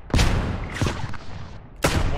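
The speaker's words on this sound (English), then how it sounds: "They're shelling right in front of us, so they're hitting our mark." Artillery shells bursting in the WW1 battlefield game Beyond The Wire: three heavy, loud blasts at irregular intervals, each with a rumbling decay, and no voices over them.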